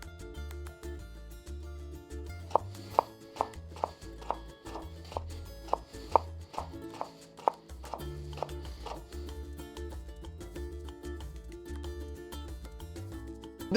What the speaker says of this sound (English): it's just a matter of chopping this thing very fine.